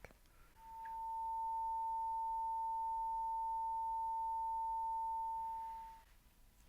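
A steady 900 hertz sine test beep sounds alone for about five seconds, clean and unbroken with soft fade-in and fade-out over faint background hiss.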